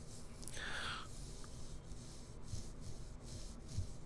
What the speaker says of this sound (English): I'm just gonna keep rubbing my beard onto this pop filter.